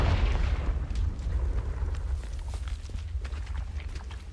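A Confringo blasting spell explodes in Hogwarts Legacy: a loud, broad burst at the start, then a rumbling low tail that fades slowly.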